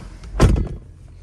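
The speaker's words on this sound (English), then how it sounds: "Let me shut the door." A car door shuts with a single solid thump, close and loud, while a car with its AC and radio running is being checked after a NOCO Genius 5 battery charger test.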